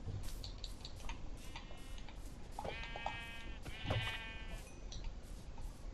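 Sheep in the video game Minecraft bleat softly a couple of times over a quiet, ticking background, with no talking.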